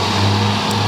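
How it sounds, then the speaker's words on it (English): A passing bus, heard from beside an EF Civic sedan, gives a steady low engine drone with a strong low hum, loud and close, no talk. "wait for the bus to drive by"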